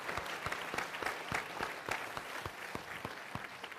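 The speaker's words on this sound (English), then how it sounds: "If you could give them a round of applause, I would appreciate that." A town hall audience gives a round of applause. It is a fairly thin, uneven clatter of distinct claps with sharp individual hits standing out, steady for a few seconds at moderate volume.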